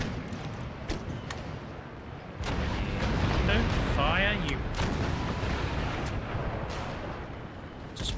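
Naval cannon fire in Empire: Total War rumbles out as a heavy booming salvo amid a continuous low battle din, with speech and other voices heard over the noise.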